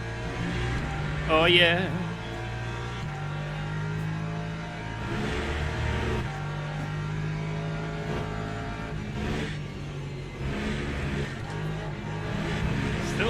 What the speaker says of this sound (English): This is the rhythm of the hypercars.